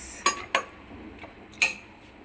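A metal spoon clinks sharply against a pan three times while mutton fry is stirred with ghee, with quiet scraping between the taps and no talking.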